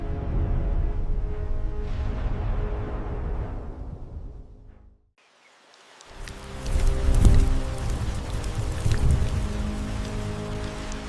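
Steady desert rain patters and hisses, fades out into a brief silence, then returns heavier with a dense, close downpour.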